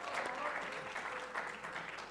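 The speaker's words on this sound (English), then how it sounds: "you can clap for that" Applause from an audience at a symposium marking 30 years of BCP in Baltimore, a steady wash of clapping throughout, fairly quiet and even in level.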